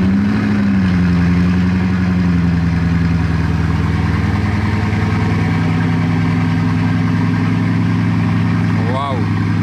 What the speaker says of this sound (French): Cold start du W16 de 1500 chevaux.